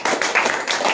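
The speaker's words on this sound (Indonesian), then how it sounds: "Tepuk tangan untuk kita semua." Short burst of classroom clapping in a simple school room, a handful of distinct, close hand claps in quick irregular succession.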